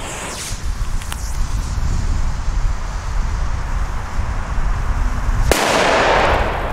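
A sharp, loud old-school firecracker bang cracks out near the end, following several seconds of windy, rumbling outdoor noise with a fainter pop earlier.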